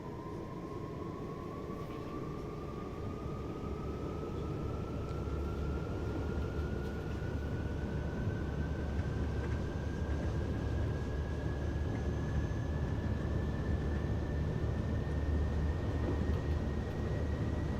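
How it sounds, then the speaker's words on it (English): Frankfurt S-Bahn train in Train Sim World 5 pulling away at full throttle, a steady loud rumble with a motor whine that climbs slowly in pitch as the train speeds up, no speech. "To be honest, it takes off pretty calmly, even when you put the throttle to 100."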